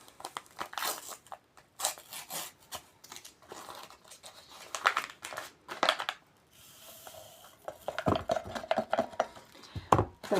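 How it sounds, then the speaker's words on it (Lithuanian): A packet of powdered mineral drink tears open and spills into a dry glass, giving a string of sharp ripping and crinkling bursts close by, with no talking. "Praplėšiame."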